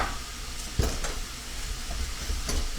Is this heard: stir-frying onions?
yes